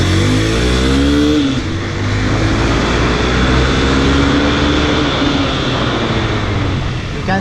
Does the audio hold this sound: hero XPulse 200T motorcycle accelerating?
yes